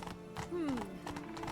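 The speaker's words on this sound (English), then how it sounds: "Every horse is Roach to Geralt" A horse in The Witcher 3: Blood & Wine trots with rhythmic clip-clopping hooves and gives a short rising whinny midway. The sound is moderately close, and voices are present around it.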